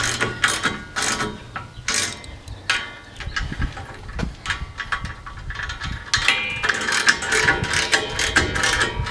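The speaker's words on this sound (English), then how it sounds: "this is a good spot also to tighten all 4 bolts as well for your latch assembly" A socket wrench ratchets in quick, clicking bursts while tightening the 3/8 latch assembly bolts on an ALTA bike rack, the close clatter stopping and starting with no voices.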